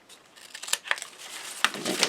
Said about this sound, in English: just cut it so it slightly overlaps